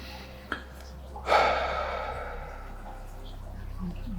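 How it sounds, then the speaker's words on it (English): A deep breath during mindfulness meditation: one sharp, close intake of air followed by a long, soft exhale that tapers into quiet room tone. "it's helpful to take a few deep breaths"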